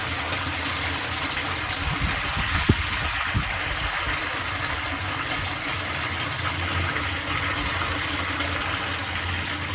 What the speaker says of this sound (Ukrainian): Зараз виходить прокачна вода